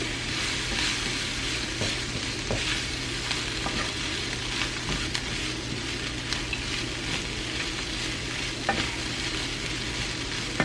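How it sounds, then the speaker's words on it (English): Flour stirred into hot grease in a frying pan, a steady close sizzle with scraping and stirring strokes throughout, no talking. "I'm going to let this flour just kind of soak up all the grease and just kind of cook a little bit"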